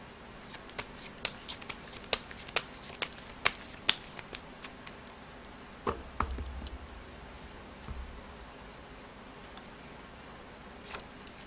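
Tarot cards being shuffled, a run of crisp, close riffling snaps and flicks in uneven rhythm, then a softer rustle as the deck settles, with faint background hum and no talk.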